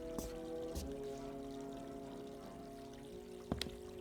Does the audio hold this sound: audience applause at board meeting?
no